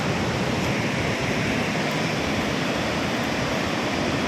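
About 10,000 cusecs of water rushes out of the Linganamakki dam in Shimoga district, a loud, unbroken roar of white water with no pauses.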